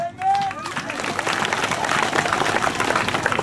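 A church congregation in Uganda breaks into loud, lively clapping and cheering during a sermon, a dense steady roar of hands and voices.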